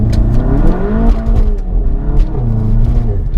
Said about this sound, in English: When I floor it, the traction control lights up and it cuts power. And if I turn it off, it just spins.